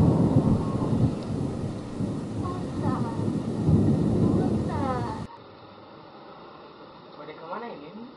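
A thunderstorm sound effect for a school drama, with heavy rain hissing steadily and thunder rumbling loudly, then fading to a quieter background as people talk over it.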